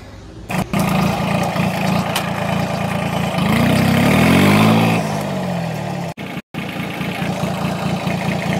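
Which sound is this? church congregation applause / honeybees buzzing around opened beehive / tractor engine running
tractor engine running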